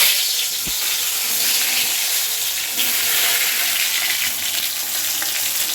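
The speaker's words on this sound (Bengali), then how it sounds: "এখন শুধু বেগুন ভাজবো" Aubergine (brinjal) slices frying in a home kitchen pan give a steady, moderately loud sizzle, with a faint stir near the start.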